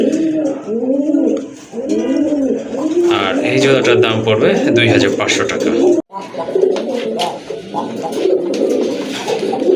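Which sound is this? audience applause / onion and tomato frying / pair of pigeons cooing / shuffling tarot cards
pair of pigeons cooing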